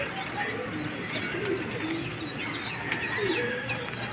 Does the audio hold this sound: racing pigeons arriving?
yes